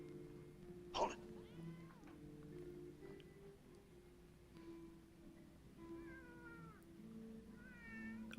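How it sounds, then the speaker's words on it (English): A kitten-like cat meows several times, thin rising-and-falling cries spaced through a quiet, hissy background with one sharp knock early on. "Oh, it's a kitty."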